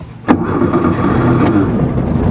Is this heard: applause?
no